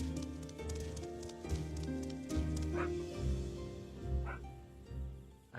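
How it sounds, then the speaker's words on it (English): A puppy barks in a series of short yaps, about half a dozen, spaced irregularly and fairly faint, under layered background sound. "I have no idea what my puppy is barking at."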